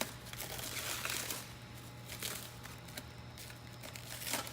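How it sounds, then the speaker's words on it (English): Knife slicing away plastic wrap from a painted spreader tongue during installation, producing steady soft crinkling and tearing rustles throughout, with a low constant hum beneath and no talking. "take your knife and cut away all the plastic wrap"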